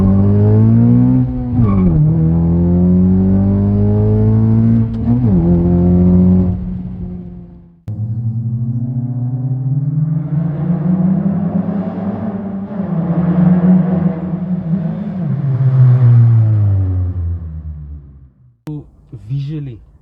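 A Honda FN2 Civic Type R revs up and down loudly close by, its 76mm single-exit exhaust giving a deep throaty note rising and falling in long pulls, then a short final blip.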